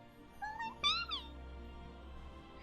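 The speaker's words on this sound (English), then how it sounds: "it's a meow!" A house cat named Roni gives a short rising meow, then a second brighter, louder meow, close and clear over a quiet room hum with no talking.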